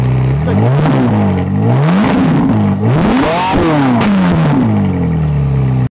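A Ferrari 458 Italia's naturally aspirated 570-horsepower V8 revs repeatedly, pitch sweeping up and down in loud, close bursts, with a harsh mechanical snarl throughout.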